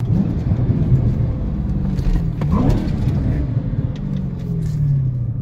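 A modded supercharged Dodge Hellcat accelerates with a deep, close rumbling exhaust, the engine note swelling and rising briefly midway before settling back into a heavy drone.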